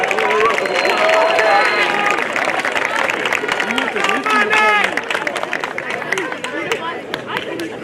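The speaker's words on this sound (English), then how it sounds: "Round of applause, please" A crowd at a high school semester awards ceremony gives dense, sustained applause mixed with cheering voices and chatter, loud at first and easing off toward the end.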